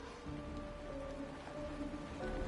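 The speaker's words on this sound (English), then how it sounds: "It's raining!" Steady rainfall patters in the video game Honkai: Star Rail, a soft, continuous hiss of drops heard faintly and alone over a low background hum.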